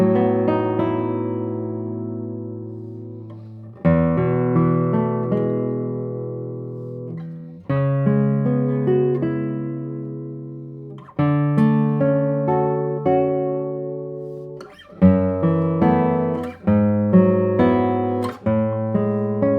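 A double top acoustic guitar of traditional build plays a few notes and chords, each strummed or plucked group ringing out and decaying in about four bursts, close and clear with no talking.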